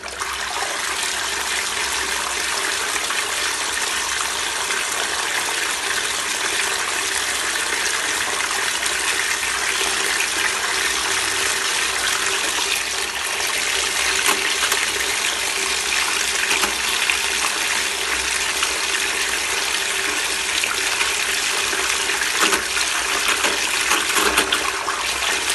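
A DC60G-24120S micro circulation pump runs normally, pushing water with a steady, continuous gushing and trickling that stays even throughout, with no voices.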